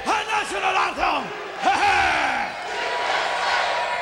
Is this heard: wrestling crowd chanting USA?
yes